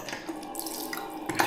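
Water runs from a tap in a caravan site public washroom, a steady close hiss and splash that holds on throughout, brightening near the end.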